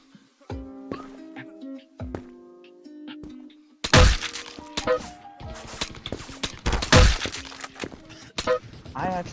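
LMG gunfire in a video game, heard as bursts of sharp cracking shots, loudest in a dense stretch midway through, with quieter game sounds and shots around it.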